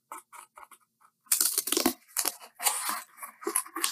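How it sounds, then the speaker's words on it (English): Scissors cutting an L-shaped piece out of cardboard for a handle, several short snips and crunchy tearing bursts, close and loud after a quieter stretch of light clicks. "let's go ahead and cut that out"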